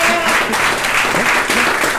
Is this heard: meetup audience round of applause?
yes